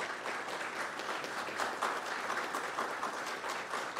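A roomful of people applauds students being honored at a county board meeting, steady dense clapping throughout with no speech over it.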